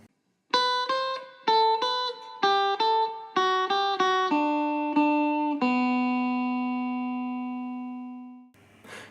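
An electric guitar plays a song's intro alone, a series of strummed chords in a steady rhythm, ending on a long ringing chord that slowly fades.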